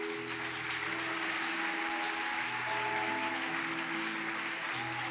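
Church congregation applauding in praise of the Lord, a dense, steady wash of clapping filling the room throughout, with sustained organ or keyboard tones underneath.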